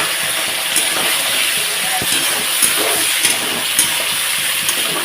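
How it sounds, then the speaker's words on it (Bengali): Spice masala fries in oil beside fried pointed gourd, a steady moderate sizzling hiss with small stirring knocks, under faint intermittent voices. "এখন এই যে সাইড করে নিয়ে মশলাটাকে দিয়ে দিচ্ছি ভালোভাবে কষিয়ে নেব"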